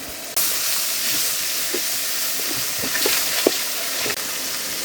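Spice pastes such as garlic and ginger paste hit hot oil in a pan and break into a loud, sudden sizzle. The hiss then holds steady, with small pops and spatters, and nobody speaks.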